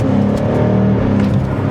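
A BMW M car's V8 engine rumbles loud and close, a continuous throaty drone that rises slightly as it accelerates.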